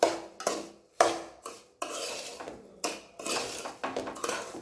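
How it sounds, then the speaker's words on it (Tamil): Spoon stirring sugar into a sweet somas stuffing mixture in a bowl, heard as a run of close scraping, clinking strokes with brief pauses between them and no talking. "சேர்த்துட்டு நல்லாவே மிக்ஸ் பண்ணி விட்டுக்கலாம்."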